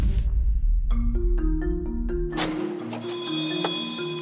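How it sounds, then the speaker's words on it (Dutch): A bell rings out clearly and alone, sounding several bright struck tones over a low hum, then a sustained resonant ringing with overtones toward the end. "De bel doet het."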